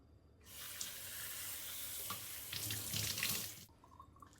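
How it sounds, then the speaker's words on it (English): Water from a kitchen sink tap runs loudly for about three seconds over potato chunks in a bowl, splashing harder near the end before the tap shuts off and a faint clunk follows. "take it over to the sink to give it a good rinse"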